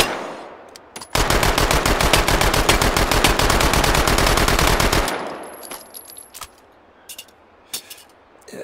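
An Uzi submachine gun fires in the VR shooting game H3VR: a single long, loud, close burst of rapid shots lasting about four seconds, followed by quieter clicks and handling sounds.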